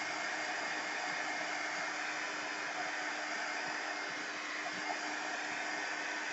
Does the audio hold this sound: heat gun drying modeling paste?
yes